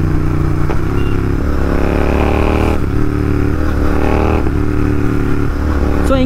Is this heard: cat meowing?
no